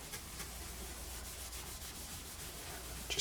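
Rubbing compound worked by hand onto a 1995-1999 Mitsubishi Eclipse taillight lens, a soft, steady scrubbing hiss with faint rhythmic strokes, close and quiet, with no talk.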